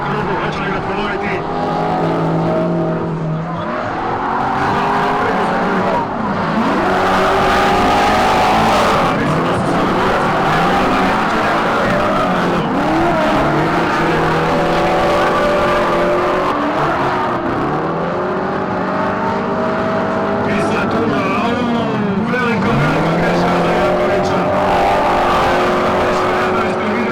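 Drift cars battle through a tandem heat at a drift challenge, engines howling and revving up and down with tire squeal, loud and continuous while a commentator talks over the action.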